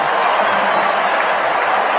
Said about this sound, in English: a big crowd here as a lot of folks enjoying this